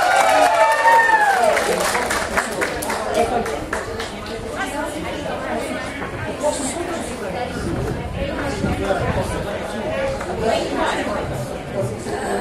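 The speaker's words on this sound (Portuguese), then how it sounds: "Aplausos!" Outdoor crowd at a lecture in Parque Villa Lobos applauding and cheering, a loud wash of clapping and whoops mixed with chatter that settles into lively crowd noise, with people talking over it.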